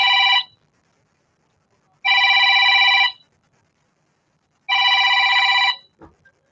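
A telephone ringing for an incoming call, three loud electronic ring bursts spaced about two seconds apart, then a brief faint knock near the end.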